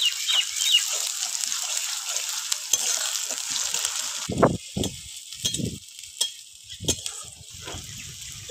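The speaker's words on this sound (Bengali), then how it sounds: "এবার আমি আদা রসুন বাটা আর লঙ্কা কুচি দিয়ে দেবো। দিয়ে একটু নেড়ে চেড়ে নেব।" Ginger-garlic paste and chopped green chilli hit hot oil with a loud hiss that fades, followed by several distinct spatula scrapes and stirring knocks against the pan.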